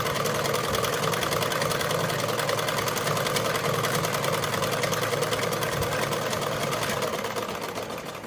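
A sewing machine stitching a blouse hook strip runs in a fast, even mechanical whir close by, steady for several seconds before easing slightly at the end, with no talk.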